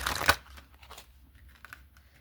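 A deck of tarot oracle cards is shuffled by hand with press-on nails: one crisp burst of riffling up front, then soft, scattered card flicks and taps, fairly quiet and close.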